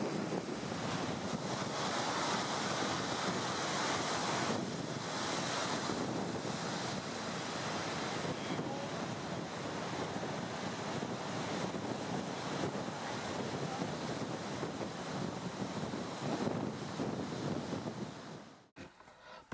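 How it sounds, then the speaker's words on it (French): Sea waves rolling in on a rising tide at Les Sables-d'Olonne beach in February, a steady, loud wash of surf with wind buffeting the microphone throughout, no voices. "au Sable d'Olonne, la mer monte"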